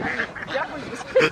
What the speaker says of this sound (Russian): Утка вообще неугомонна.